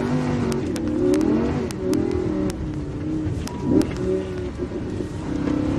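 A Lamborghini Huracan drifts on a frozen, snowy lake, its engine revving up and down in repeated surges with wind buffeting the microphone and sharp clicks over a loud, steady drone. No one speaks.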